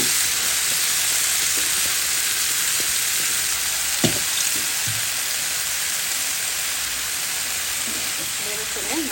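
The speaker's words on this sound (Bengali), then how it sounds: "অনেকটু হলুদের গুঁড়া দিয়ে দিলাম, একটু নাড়াচাড়া দিয়ে বরবটিটা দিয়ে দিলাম" Yardlong beans with turmeric fry in a pan with a dense, steady sizzle and hiss, broken by a few stirring scrapes. A voice is faintly present under the frying.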